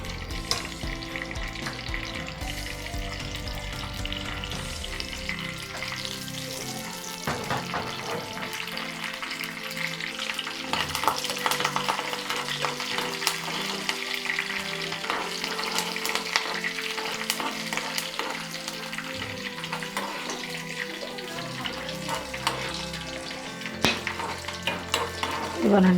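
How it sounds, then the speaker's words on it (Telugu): A tempering of dried red chillies and curry leaves fries in hot oil for majjiga pulusu, a buttermilk curry, with a continuous close sizzle and crackle, punctuated by a utensil stirring and scraping the pan throughout. "పోపు బాగా వేగింది."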